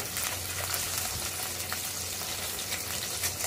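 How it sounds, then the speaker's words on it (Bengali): Sundari fish frying in a pan while the pieces are flipped, a soft continuous sizzle with faint crackles and small clinks, fairly quiet and without speech. "এখন আমি মাছগুলোকে আরেক পিঠ উল্টিয়ে দিচ্ছি।"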